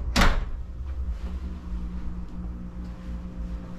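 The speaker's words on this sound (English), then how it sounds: "I'll let that door slam." A hotel room door at a Hampton Inn & Suites in Fort Lauderdale slams shut with one sharp, loud bang at the start, followed by a low steady room hum.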